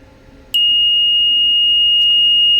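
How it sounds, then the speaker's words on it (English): A Mototrbo radio telemetry button sets off an alarm and fan, heard as a sudden loud, steady high-pitched electronic tone that starts abruptly and holds continuously over a faint low hum. "So I will press the yellow button, or gold, to initiate the fan, the alarm, and the LED."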